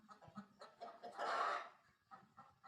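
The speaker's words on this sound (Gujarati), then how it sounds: "કુકડા અમે બોલે છે." Roosters clucking in short bursts, with one louder crow rising in the middle, close and fairly quiet, repeated clucks continuing after it.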